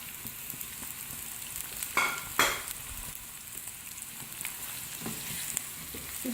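Onions frying in the same oil where okra was just fried for a bhindi pyaz dish: a soft, steady sizzle hiss with a couple of brief scraping clatters, faint and with no voices.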